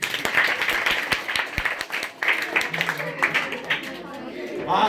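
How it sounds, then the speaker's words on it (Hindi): Audience clapping at a gathering in Surat, Gujarat: sharp claps come thick and fast over the first two seconds, then give way to voices talking and murmuring. "तो जोरदार ताली"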